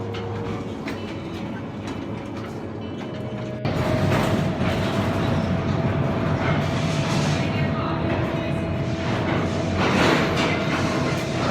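A mine train in the Khewra Salt Mine rumbles steadily along the rails, the noise swelling suddenly louder partway through as it passes close, with a faint tonal hum throughout.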